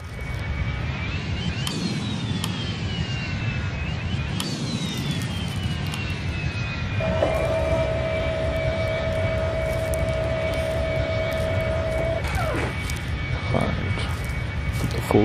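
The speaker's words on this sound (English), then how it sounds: "Right, let's get all our engines started up." Airliner jet engines spool up in the mobile flight game Rortos Extreme Landings, a loud steady roar with rising whines and a sustained tonal hum, while a voice talks over it.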